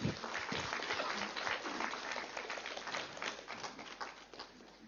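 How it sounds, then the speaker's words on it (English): An audience claps steadily for several seconds at a global meditation leaders' conference in New Delhi, a moderately distant, even wash of applause heard alone. "give a big clap to meditation"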